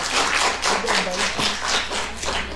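A studio audience at a 1987 televised school quiz contest breaks into steady, dense applause, many hands clapping together at close range for the whole stretch with no one speaking over it.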